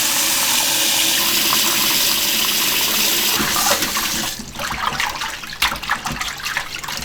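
Tap water running loudly and steadily while beef and beef tendon are rinsed for braised beef noodle soup. The stream splashes and gushes up close, breaking into splattering as the meat is handled.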